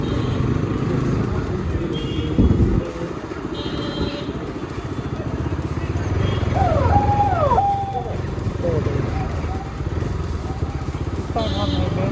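Motorcycle ride on a snowy road toward Sonamarg in Kashmir, a steady engine drone with road rumble running throughout, joined by a brief clatter and faint chirping sounds midway.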